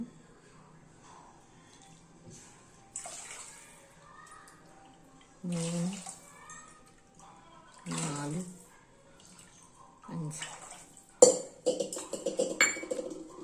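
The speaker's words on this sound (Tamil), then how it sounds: "இப்போ அஞ்சு கப்பு தண்ணி ஊற்றிக்கலாம்" Cups of water poured into a pot while making traditional rice porridge (kanji), giving short splashing bursts around the middle of the clip, with a clink near the end and a person talking faintly in between.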